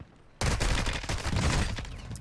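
Rapid automatic gunfire in Warzone 2, likely a Lachman 556 rifle, erupting abruptly after a quiet moment into a loud, dense, continuous burst of shots with overlapping cracks.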